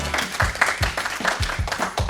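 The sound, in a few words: audience applause for quiz contestants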